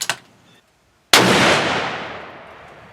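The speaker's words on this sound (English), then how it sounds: "Alright, I gotta shoot one more, Garrett." Savage Ultra Lite rifle firing a single loud, close shot outdoors, with a sharp crack and a long decaying echo, after a faint earlier report.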